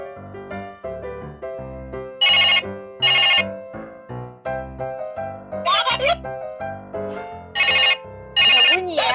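A bubble penguin toy plays a loud, bright electronic jingle after money is inserted, with a run of quick melodic tones and short ringing bursts that repeat up close.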